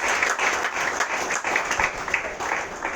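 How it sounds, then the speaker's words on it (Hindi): A church congregation at a Sunday worship service claps to welcome a preacher, a brief burst of dense, fairly close applause from many hands with a voice faintly mixed in. "तो मैं चाहता हूं हम ताली बजाकर परमेश्वर के दास इसका स्वागत करें।"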